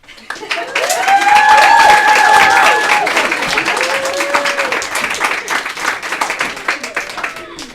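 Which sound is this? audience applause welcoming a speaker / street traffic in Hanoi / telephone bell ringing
audience applause welcoming a speaker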